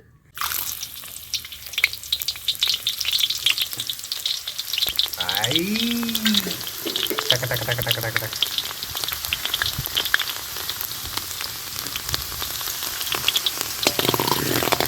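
Ginger and garlic, cut into small pieces, hit hot oil while cooking chicken rice and set off a steady, fairly loud sizzle and crackle that runs throughout, with brief clanks from a pan or utensil partway through.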